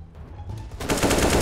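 Gunfire in Counter-Strike: Global Offensive, starting with sparse shots and then a loud, dense burst of rapid automatic fire in the latter half.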